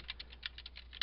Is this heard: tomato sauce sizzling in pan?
no